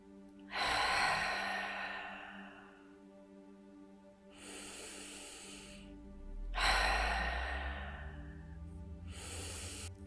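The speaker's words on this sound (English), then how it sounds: "Take in 3 deep breaths." Slow, deep yoga breaths taken during a gentle neck stretch: long, airy inhales and exhales rising and fading in a calm rhythm, close and soft, with no talking.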